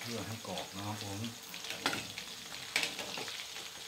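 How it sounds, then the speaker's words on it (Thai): Frog skin frying in hot oil until crisp gives a close, steady sizzle with crackling pops; someone talks briefly at the start. "ส่วนหนังก็ต้องทอดอีกนิดนึงนะครับเพื่อให้กรอบนะครับผม"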